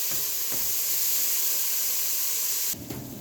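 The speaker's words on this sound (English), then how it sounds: "I'm going to add 1 teaspoon of the garlic. And I'm going to let this saute for a few minutes." Minced garlic, about a teaspoon, sautés in a hot pan as a base for cream of broccoli soup, giving a steady broadband hiss that drops away abruptly near the end, with no talking.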